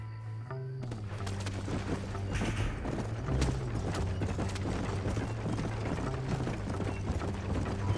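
Horses trot in the Red Dead Redemption video game, hooves clip-clopping in a steady rhythm under a busy mix of game sounds and ambient noise, moderately loud and continuous.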